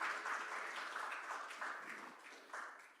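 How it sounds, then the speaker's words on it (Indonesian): Faint, distant applause from a church congregation at a Sunday service fills the room in an even wash of clapping with no voices on top. "Kita tepuk tangan yang meriah untuk Allah kita"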